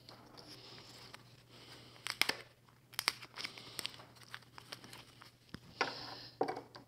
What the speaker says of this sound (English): I'm just going to tape those pieces together.